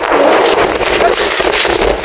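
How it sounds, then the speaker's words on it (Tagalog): Strong typhoon wind buffets the microphone in a loud, continuous rushing roar, gusting throughout. "Dahil malakas pa rin ang hangin."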